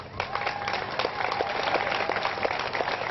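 A crowd at a Black Lives Matter rally and march claps and applauds steadily for several seconds, dense and fairly loud.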